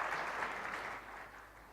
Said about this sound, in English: yes, that does deserve some applause.